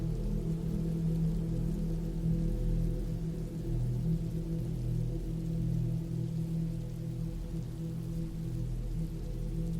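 Steady rain falls continuously for the whole stretch, a dense even wash of drops with a low rumbling undertone and no voices.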